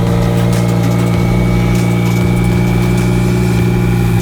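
A Lamborghini Huracan with a twin turbo setup idles steadily once warmed up, a loud, close, continuous low rumble with a constant throb and no revving.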